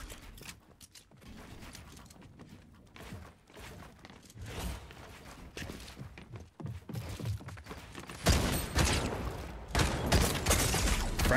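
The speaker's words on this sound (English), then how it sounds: "Shooting at trees and shit." Gunfire in Fortnite crackles as scattered rapid shots and mechanical clatter. The shots are faint at first, then grow into a louder, denser burst toward the end.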